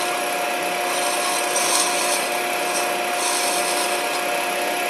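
Scraper cutting acrylic spinning on a woodturning lathe, a steady close rasping hiss over a constant tonal whine, with no pauses.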